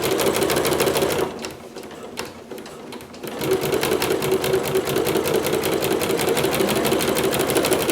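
A sewing machine fitted with a ruffler foot runs fast and loud, stitching gathered ruffles with a steady whirring hum, pausing briefly before resuming its continuous close drone.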